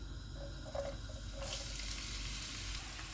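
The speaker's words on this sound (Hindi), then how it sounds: "ऑयल गर्म हो गया, इसमें प्याज डालेंगे" A chopped medium onion goes into three tablespoons of hot oil and fries with a steady, close hiss and sizzle, broken by a few brief crackles and with no talk.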